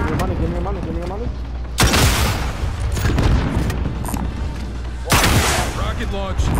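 Heavy explosion booms in Call of Duty: Modern Warfare, with two sharp loud blasts and rumbling gunfire between them, under a voice talking.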